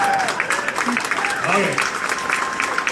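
Audience at an Alberta Unity Project political gathering clapping and cheering in a steady, dense wash of applause, with someone speaking briefly over it.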